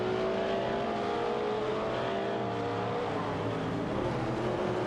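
A steady, unbroken engine drone from race cars on a track, including a Shelby Cobra and a Porsche 906, holding at the same close level throughout with no passing surges.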